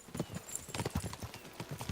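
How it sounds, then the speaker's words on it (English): Several horses gallop in Kingdom Come: Deliverance 2, their hooves beating in a quick, uneven clip-clop rhythm close up, with no voices over them. "We should spur the horses on."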